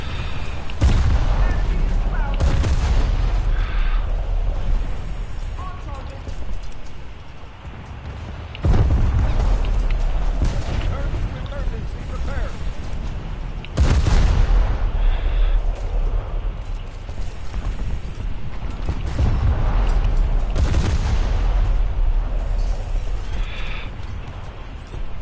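Aircraft guns firing in the War Thunder video game, with bursts of heavy booming shots recurring every few seconds over a constant engine drone.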